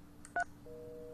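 Phone keypad tones from a telephone in the Nancy Drew: The Phantom of Venice game: a short double-pitched beep, then a longer steady tone, fairly faint over a low background hum.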